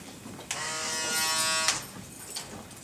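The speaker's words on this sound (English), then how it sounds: "Oh, this is called a five-star shaver." Five-star electric shaver used in a barbershop clipper-cutting class, switched on and buzzing steadily for about a second with a click at start and stop, up close and loud, with no talking.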